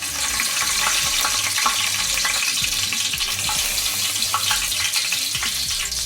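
A small cinnamon stick and a bay leaf fry in hot oil for a restaurant-style chicken fry. A loud, continuous, close-up sizzle crackles without pause, with no voices.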